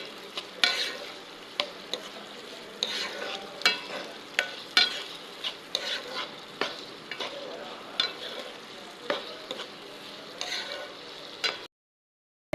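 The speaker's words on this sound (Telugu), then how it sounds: "పచ్చిమిర్చి అండ్ బీన్స్ మొత్తం ఒకసారి మిక్స్ చేసేసుకుందాము" Green chillies, carrot and beans being stirred in a pan for fried rice, with a steady run of spatula scrapes and clinks over a soft sizzle, close and moderately loud, ending abruptly in silence.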